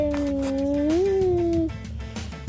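Kitten meowing indoors, one long drawn-out plaintive meow rising in pitch near the end, close and clear, followed by quieter background rustling.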